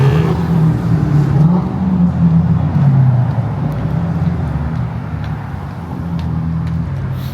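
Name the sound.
sports car driving by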